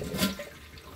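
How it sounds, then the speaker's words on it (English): A Bio Bidet Elite bidet's water tank is flushed out, giving a short, close rush of draining water that swells quickly and then tapers into a softer trickle, with no talking. "And you just keep flushing it until you can get all that water out of it."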